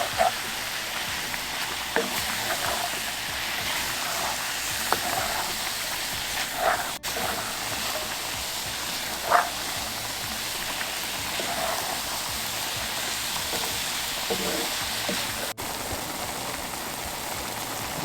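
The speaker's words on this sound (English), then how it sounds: "You want to fry it down until it gets done to add the sauce." Food frying down in a pan for homemade spaghetti sauce, a steady hissing sizzle like light rain, with a few faint clicks and pops scattered across the stretch.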